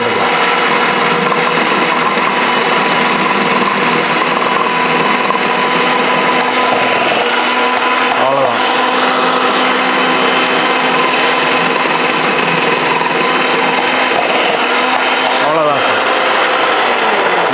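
An electric all-in-one kitchen vegetable slicer machine runs continuously while slicing carrots, a loud steady motor whine close by.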